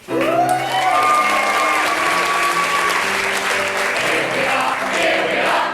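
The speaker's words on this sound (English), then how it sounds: "won't you please give our cast a huge round of applause as they sing their finale" An audience gives a stage show cast a loud, sustained round of applause as the finale begins, with sung tones and music rising beneath the clapping.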